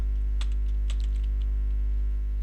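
Computer keyboard being typed on while writing Python code, a few sparse soft key clicks over a steady low electrical hum, no voices.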